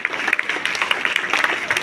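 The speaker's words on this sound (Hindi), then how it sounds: "एक बार जोरदार तालियां हो जाए सभी स्टूडेंट्स के लिए।" Students at a school assembly give a short burst of dense, lively clapping from a crowd.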